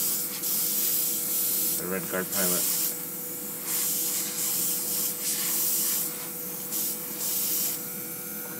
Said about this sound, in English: See much faster it works with the airbrush.